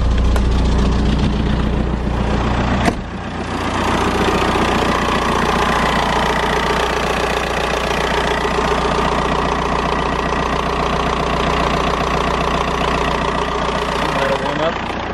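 A diesel-swapped Mk2 Jetta with a TDI engine idles close by with a steady, loud, rough clatter that runs for the whole stretch, briefly stumbling once near the start, while someone talks over it.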